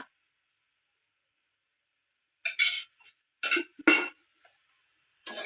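Methi bhaji, fenugreek leaves cooked with peanuts and moong dal, is stirred in a pan after a spoon of oil goes in: a few scattered scrapes and clinks of a spoon against the pan after a quiet start.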